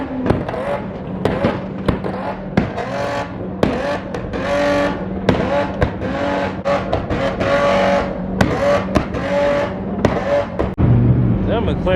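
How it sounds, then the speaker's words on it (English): A Dodge Demon doing a burnout at a car meet, its engine roaring in a loud, sustained drone with sharp popping bursts, a crowd chattering and shouting over it. "You already know this burnout's gonna be crazy."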